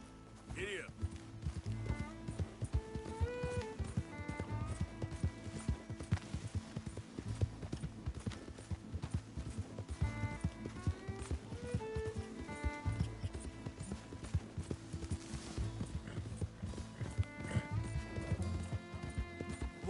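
Horse hooves clip-clop in a steady galloping rhythm in Red Dead Redemption II, close and continuous under game music, with people talking over the top.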